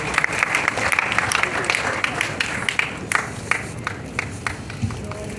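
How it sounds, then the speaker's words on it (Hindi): Applause from a class audience in an auditorium, dense clapping loudest at first then thinning into scattered individual claps, with voices underneath. "तालियां बजाएं, तालियां"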